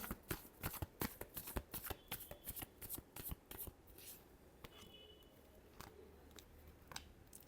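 Tarot cards being shuffled by hand, a quick run of crisp riffling flutters and taps close to the mic, easing into softer, sparser handling toward the end.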